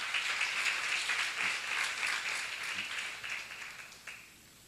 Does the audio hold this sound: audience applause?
yes